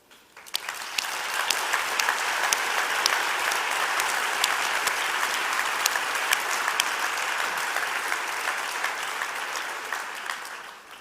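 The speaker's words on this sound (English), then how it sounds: "offer a round of applause to so many global health partners and friends" A large audience gives a sustained round of applause at a WHO opening ceremony, swelling quickly to a full, even roar of many clapping hands, then tapering slightly near the end.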